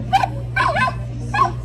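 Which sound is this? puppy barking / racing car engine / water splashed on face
puppy barking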